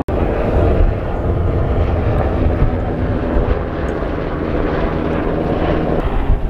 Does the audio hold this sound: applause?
no